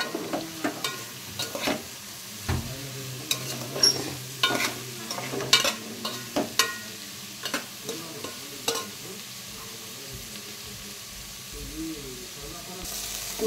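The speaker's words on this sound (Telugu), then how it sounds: "తగినంత పసుపు వేసుకొని ఉల్లిపాయని బాగా కలుపుకోవాలి. బాగా ఫ్రై అయ్యేదాకా వేయించుకోవాలి." Onions with turmeric fried in a pan, a low sizzle under repeated sharp scrapes and clinks of a spoon stirring at irregular intervals, close by, with brief talk in between.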